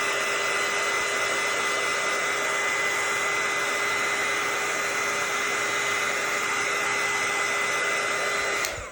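A hair dryer blows steadily and loudly for about nine seconds, drying a glitter tumbler, with a constant whirring hiss and no talking, then cuts off at the end.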